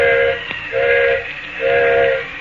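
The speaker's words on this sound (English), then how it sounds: "Engineer's whistling for a flagman." A steam locomotive whistle sounds three long, loud blasts with brief gaps, the engineer calling for a flagman on a stalled train in an old radio drama, over a faint hiss.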